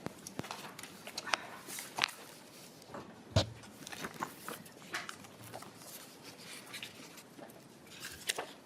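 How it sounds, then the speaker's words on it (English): Papers shuffled at a desk during a legislative committee hearing: scattered soft rustles, taps and scrapes, fairly faint, with one sharper knock partway through. "Let me just shuffle my papers here and get things out of the way."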